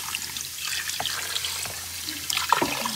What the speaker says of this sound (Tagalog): Hot water po ang ilalagay natin.